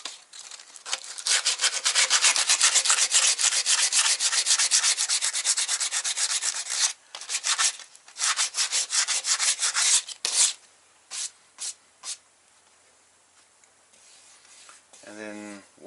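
Body filler in a VW Mk2 engine bay is sanded by hand in fast, close back-and-forth strokes, first in a long continuous run and then in shorter separate bursts that thin out toward the end.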